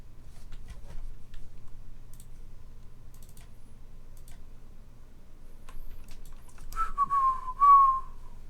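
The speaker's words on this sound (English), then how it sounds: "Whistling as she's mopping." A woman whistles a short, bright tune while mopping, the whistle rising clearly near the end after a stretch of quiet room tone with faint low hum and small ticks.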